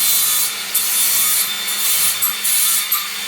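Grinder abrading a wooden mounting panel, loud and close, a harsh hissing rasp in repeated strokes with brief gaps between passes.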